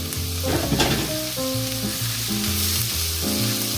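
Chopped red pepper and red onion fry loudly in a pan, giving a steady close-up sizzle with stirring scrapes and no talking.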